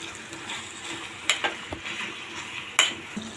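Ginger garlic paste is stirred and fried in a pan for a cashew and drumstick curry, with a steady soft sizzle under a few scraping stirs and light clinks of a spoon against the pan.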